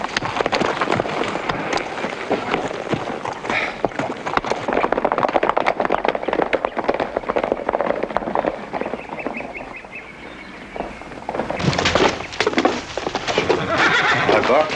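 A horse whinnies loudly amid clattering hooves and other animal noises, with people talking over the commotion.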